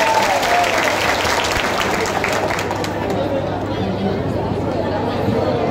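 An indoor audience at a GSL Group company New Year celebration claps loudly and continuously, the dense applause mixed with crowd chatter and a few voices.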